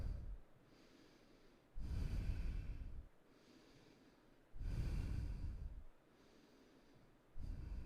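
Long, steady breaths during a live urban yoga flow class, three broad exhales swelling and fading at a regular pace, close and fairly soft, with quiet gaps between them.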